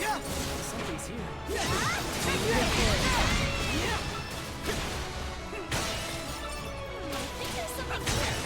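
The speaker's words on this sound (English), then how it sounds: "I really probably don't need to be smashing everything for materials either" Objects shatter and break in a string of crashes and swishes while exploring in the action RPG Ys IX, with several sharp smashes spread across the stretch and game music running underneath.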